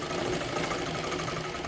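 Sewing machine stitching a three-piece princess blouse, a steady fast mechanical whirring and knocking close by, with no talk.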